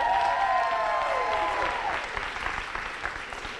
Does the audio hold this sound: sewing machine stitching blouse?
no